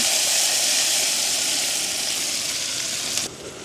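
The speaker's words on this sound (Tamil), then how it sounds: "வெங்காயம் பச்சை மிளகாய் வதங்கட்டுக்கு." Sliced onion and green chili sautéing in hot oil in a village kitchen pan, a dense, steady sizzle that stays loud throughout and cuts off sharply near the end.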